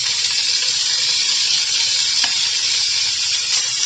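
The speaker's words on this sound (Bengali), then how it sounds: "রসুন যখন হালকা ব্রাউন হয়ে যাবে তখন আগে থেকে মেরিনেট করে রাখা বিফটা দিয়ে" Marinated beef hitting a hot pan with lightly browned garlic, a loud, dense, steady hiss of frying close up, with a faint clink or two of the utensil and no voices.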